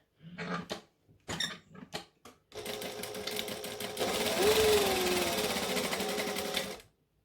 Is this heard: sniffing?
no